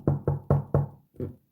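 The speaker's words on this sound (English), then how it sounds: "this young man comes knocking on her door" Four firm knocks on a door in a quick even rhythm, then a short pause and a fifth, softer knock, close and clear with no voices.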